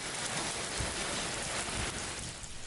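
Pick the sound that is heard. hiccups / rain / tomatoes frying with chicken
rain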